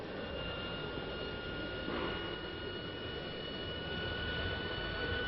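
A Dassault Mirage III jet engine runs steadily at the factory, a broad constant roar with a faint whine, holding level throughout without pause.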